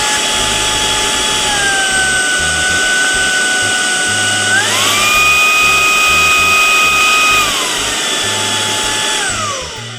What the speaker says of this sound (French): C'est pas un aspirateur silencieux, c'est pas un aspirateur qui fait non plus plus de bruit qu'un aspirateur lambda